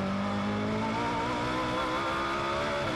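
An A1GP race car's engine drives hard out of the final corner at Eastern Creek in 2007, a loud, continuous onboard roar that climbs steadily in pitch as it accelerates, heard alone with no voices.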